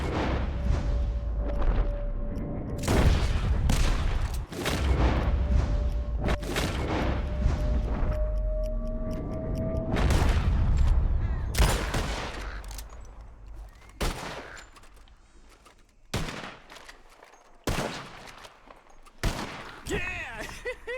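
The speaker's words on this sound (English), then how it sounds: "As soon as you see them, start shooting." Rapid gunfire at a shooting contest in the video game Red Dead Redemption 2, with dense overlapping shots and booms at first, then spaced single cracks that fade toward the end.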